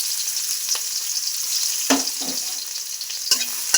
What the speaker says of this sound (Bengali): দিয়ে দিচ্ছি আমি পেঁয়াজ কুচি।